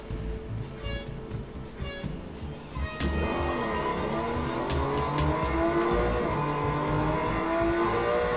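A racing car engine in the Real Racing 3 video game drones and revs continuously, rising in pitch with tire noise, loud and steady over game audio.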